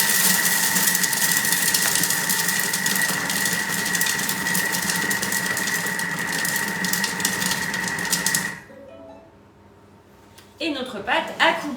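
Thermomix food processor running at speed 3 and mixing cookie dough with peanuts and chocolate; a steady whirring motor hum lasts about eight seconds, stops abruptly, and is followed by quiet handling noises.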